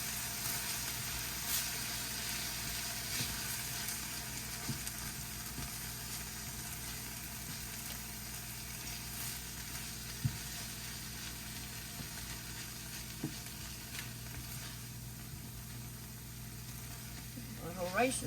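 Rice stirred in a hot pan with a steady, quiet sizzle and faint scraping throughout, joined by a brief clatter near the end.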